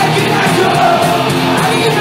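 Metal-style screams in a song, a loud, sustained harsh vocal yell over dense distorted band music, continuous throughout.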